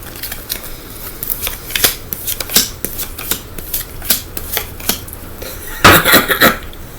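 Small tarot cards being shuffled nearby, a run of crisp irregular riffling snaps, with a denser burst toward the end.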